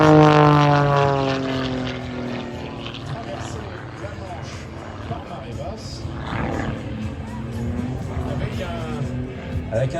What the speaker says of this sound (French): Un Pitts, c'est un avion de voltige des années 70. Un avion très nerveux, de toutes petites ailes, mais un moteur très très puissant